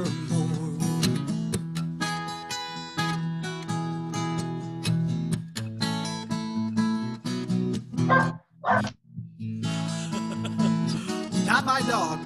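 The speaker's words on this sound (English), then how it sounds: "Not my dog." A dog barks a few times in short bursts during a live songwriter's acoustic performance, partly masked by the singing and guitar.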